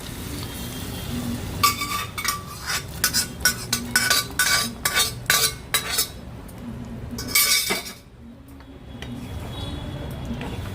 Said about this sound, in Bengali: মশলার মধ্যে ঘুগনিটা দিয়ে দেবো জল সমেত।